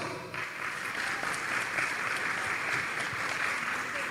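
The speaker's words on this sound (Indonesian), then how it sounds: "Siapa yang sudah tidak sabar boleh kasih aplaus." An audience claps steadily through a seminar hall, a dense, continuous wash of hands that holds at an even level from start to finish.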